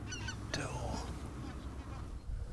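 Wild geese honking in flight high over farmland meadows on the German-Dutch border, a few distant, ragged calls above a constant low rumble of wind and open-air background.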